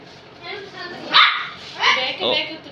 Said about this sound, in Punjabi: ਕੱਪੂ ਵੀ ਭੌਂਕੀ ਜਾਂਦਾ ਕਹਿੰਦਾ ਮੈਨੂੰ ਨਹੀਂ ਦਿੰਦੇ